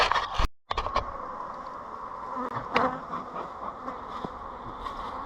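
Honeybees in a bee yard buzz in a steady, close drone, with a few brief clicks and thumps near the start.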